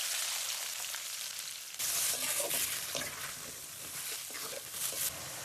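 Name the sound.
onions frying in hot oil in a pan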